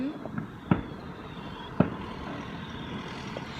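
Two sharp firework bangs go off at a distance on bonfire night, spaced about a second apart, with a few fainter pops scattered through steady low background rumble.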